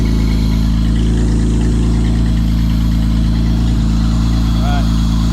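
A J35 engine swapped into an ultralight holds a high, steady idle before warming up, a loud, constant drone with no change in pace throughout.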